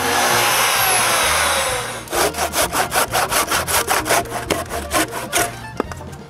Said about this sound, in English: The small sliver in the center is cut with a handsaw.